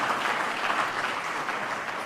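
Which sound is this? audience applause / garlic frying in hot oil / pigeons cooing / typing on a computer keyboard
audience applause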